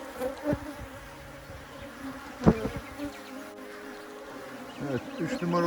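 Honey bees buzz steadily at the entrance of a hive as they move inside, a close, continuous drone with a few brief louder passes of individual bees.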